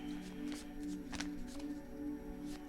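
Tarot cards being shuffled in a couple of quick riffling bursts, soft papery flutters over a steady low background hum, no talking.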